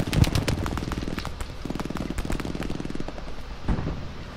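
Sustained automatic weapon fire in the World War II shooter Hell Let Loose, dense rapid bursts rattling almost continuously with a few heavier single shots cutting through, loud and close.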